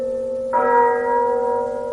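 One stroke of a church bell sounds near and clear, leaving a long sustained ring that hangs in the air, with no speech, in a radio drama of A Christmas Carol.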